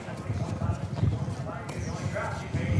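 Rhythmic clip-clop of horse hooves close by, steady and fairly loud, with a voice talking over it.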